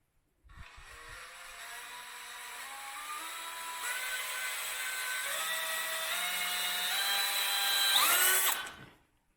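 Cordless power drill run by itself, its whine climbing in distinct steps as the trigger is squeezed further, steady and fairly close, before cutting off abruptly at the end.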